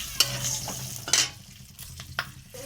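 Green chillies and panch phoron hitting hot mustard oil in a pan, a continuous sizzle broken by a few sharp clacks of a spatula stirring against the metal.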